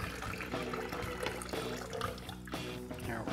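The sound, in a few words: pouring film developer out of Lab-Box developing tank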